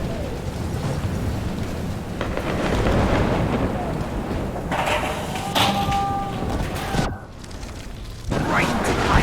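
A thunderstorm in the video game Life is Strange Remastered roars loud and close, with dense rumbling, rushing wind and rain sweeping through the whole stretch and a few sharper cracks.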